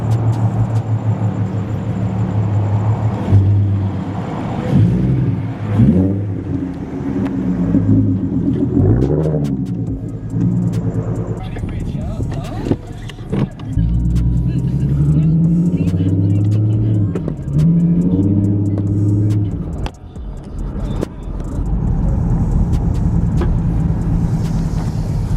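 A Ford Mustang S550 with a 3.7L V6 engine on a test drive after a spark plug install, its engine droning and rising and falling through gears for a long stretch, with a person talking over it.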